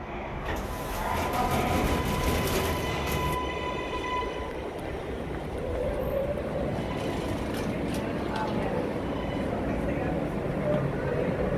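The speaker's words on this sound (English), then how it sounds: "R143, L train, Brooklyn bound, this is 8th Avenue." An R143 subway car on the L train at 8th Avenue station in New York rumbles steadily and loud, with faint metallic wheel squeal and tonal whine early on, and no clear talk.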